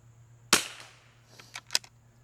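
A .22LR rifle fires at long range: one sharp crack that rings off, then two fainter snaps, all over a low steady hum.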